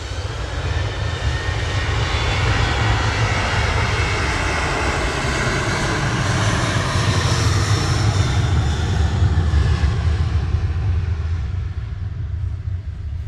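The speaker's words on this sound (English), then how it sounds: "Ryanair departing in parallel to Cork" A Ryanair jet airliner departs Manchester Airport with a loud, steady engine roar that holds strong for the whole stretch, with no voices over it.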